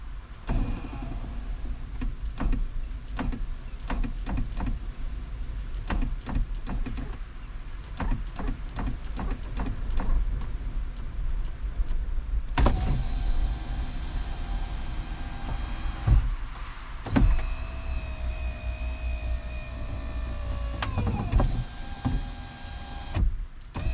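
Electric window motor on a converted van with a wind deflector fitted, whirring as the glass moves, then the anti-pinch safety kicking in and reversing it with rising and falling motor whines and clunks.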